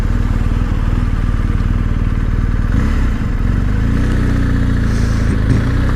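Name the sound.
2021 BMW 1250GS motorcycle riding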